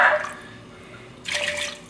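Water or stock poured into a pot for a curry-flavored vegetable and chicken rice soup, with a brief splash at the start and a second burst of pouring near the end, close and moderately loud.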